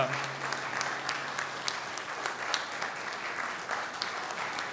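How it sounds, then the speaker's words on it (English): A church congregation gives a standing ovation, steady broadband clapping at moderate distance with scattered louder claps, faint voices beneath and no cheering clearly distinguishable. "Yeah, give him a good cheer."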